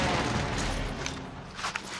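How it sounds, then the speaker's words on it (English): Dense, continuous gunfire from a Call of Duty Warzone match, a sustained fusillade of shots with a few sharper cracks standing out near the end. "I think the other guy might have got shot"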